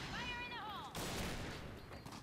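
Rapid bursts of gunfire in the online shooter game Point Blank break out near the middle of the clip and continue as a dense, loud crackle. Softer game sounds come before them.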